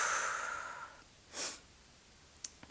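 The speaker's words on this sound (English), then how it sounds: "Do a couple more breaths here" Deep breathing during a stretching workout: a long, soft exhale trails off, then one short breath and a few faint puffs follow, close and quiet, with no talking.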